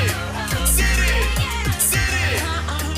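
Radio station jingle: busy, energetic music bed with punchy bass hits, bright swooshes and layered electronic flourishes, loud and dense throughout the short burst.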